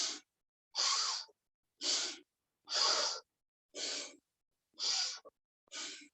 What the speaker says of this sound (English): Maybe you inhale right, exhale left.